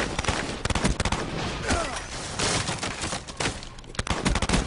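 Rapid gunfire from Call of Duty Black Ops multiplayer, dense bursts of automatic shots with scattered single cracks running through the whole stretch at steady loudness.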